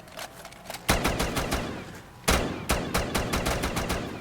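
A weapon fires in a Call of Duty zombies custom map: sharp, close shots in a quick, irregular rhythm, with two louder blasts standing out among the rapid cracks.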